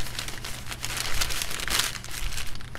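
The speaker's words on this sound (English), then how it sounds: "depending on how you crumple the paper, it's going to determine how those lines look" Sheets of paper crumpled and twisted by hand for spray paint texture work, making continuous close crinkling and crackling with brief louder bursts and no talk.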